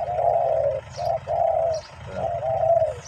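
A spotted dove coos in the morning, a steady run of low, mellow hooting notes broken by short pauses, fairly close and clear over a soft, constant low background hum.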